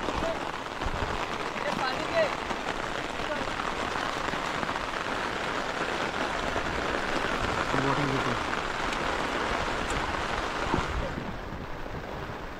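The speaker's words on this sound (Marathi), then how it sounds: "पाऊस पण आला जोरात" Heavy rain pours steadily, a continuous loud patter on surfaces near at hand, with faint voices talking underneath.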